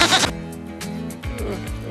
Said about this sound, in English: That is actually a goat.